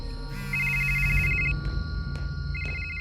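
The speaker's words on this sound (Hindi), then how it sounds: "रात का समय है, फोन की घंटी बजती है।" A cartoon telephone rings at night: two bright electronic ring bursts separated by a short pause, clear and close over a quiet background hum.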